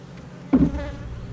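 Honey bees on a hive frame giving off a soft, steady buzz with a brief louder hum close by, fairly faint overall.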